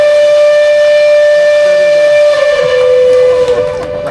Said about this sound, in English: And boy, does that whistle make it true.